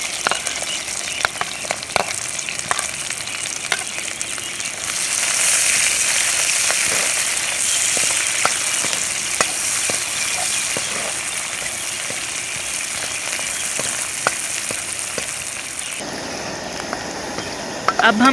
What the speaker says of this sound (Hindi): इसमें हम प्याज डाल लेंगे।